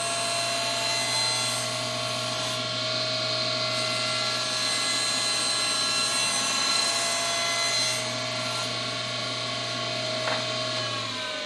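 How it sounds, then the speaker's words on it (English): Table saw cutting slightly cupped wooden boards pressed down to the saw top, a loud sustained whine with a steady hum, spinning continuously while the blade works through the wood. "These boards are slightly cupped, so I'm holding them down tight to the table saw top as I push them through the saw."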